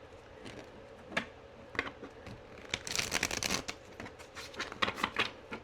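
A deck of tarot cards is shuffled by hand, giving scattered soft riffling clicks and a denser burst of card flutter partway through, close and fairly quiet with no talking.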